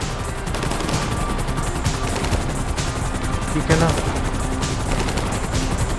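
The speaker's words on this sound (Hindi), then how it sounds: "गोलियां चला रहे हैं वो लोग।" Rapid automatic gunfire in GTA V, a dense, loud, continuous crackle of shots throughout, with a voice speaking briefly over it.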